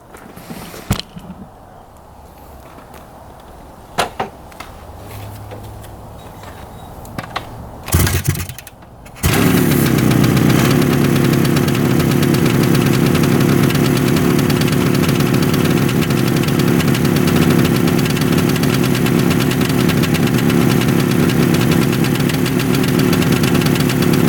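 A 500cc two-stroke motorcycle that sat unused for 22 years gives a few brief knocks and clatters, then starts and runs with a loud, steady, buzzing engine note close by for the rest of the clip.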